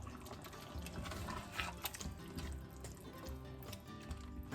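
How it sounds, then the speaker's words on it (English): Pumpkin chili being stirred in a pot, a faint, wet sloshing and squelching with soft liquid drips, steady and quiet throughout. "All right, let's stir this all up."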